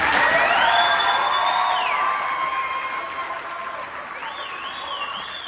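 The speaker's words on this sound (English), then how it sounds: "How about one more round of applause for them?" Audience applause at a junior high holiday concert, steady clapping with a few cheers, moderately loud, with whistling or gliding tones sounding above the clapping.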